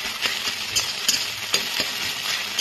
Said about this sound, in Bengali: ডিমটা আমি এর মধ্যে দিয়ে দিয়েছি তেলের মধ্যে। এবার এটাকে ভুজিয়া করে নেব।